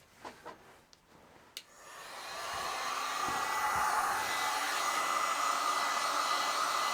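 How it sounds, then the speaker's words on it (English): A heat gun melts wax into the fabric of a Soviet plash palatka rain cape. A few light knocks give way to a steady, close, loud blowing roar that holds unbroken to the end. "let's melt this section in with my heat gun."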